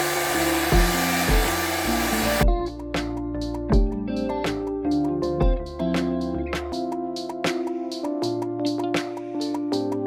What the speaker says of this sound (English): Blow drying on cool.